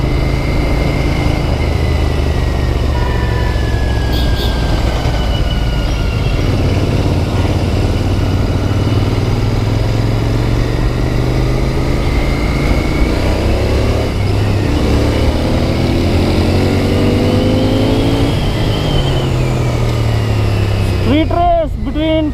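A Royal Enfield Continental GT650 twin-cylinder motorcycle engine runs loudly and steadily nearby with rising and falling revs amid traffic noise, while people talk over it.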